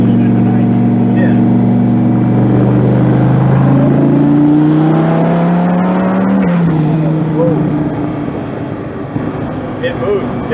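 A twin-turbo Dodge Viper rolls on at part throttle from inside the car, its engine tone climbing smoothly and loudly for several seconds, then settling, with voices talking over it.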